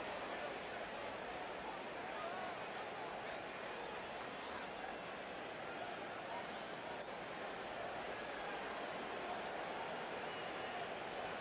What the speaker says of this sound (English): they're going to hear it from this crowd